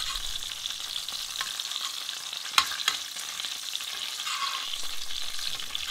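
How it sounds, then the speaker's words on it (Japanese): Duck breast sears meat-side down in a hot pan, a steady soft sizzle with a couple of sharp pops and light stirring or handling noises. "皮の面じゃなく肉の部分を焼きます。"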